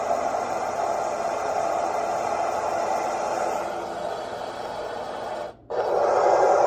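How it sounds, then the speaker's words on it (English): Fan sound setting on a Babelio white noise machine produces a steady, even whooshing drone, dipping slightly midway and dropping out for a moment before returning a little louder. "This is fan sound 1."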